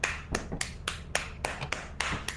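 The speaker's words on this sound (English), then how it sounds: "Dude, that's a meaty clap, bro." Sharp meaty claps in a Lethal Company hard mode game, about ten quick, bright slaps in an uneven rhythm, close and fairly loud with no talking.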